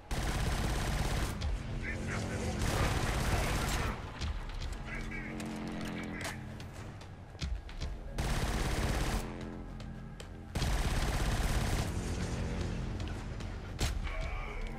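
Gunfire in the shooter Killzone Shadow Fall: long, loud bursts of rapid automatic fire broken by short pauses, close and dominant throughout.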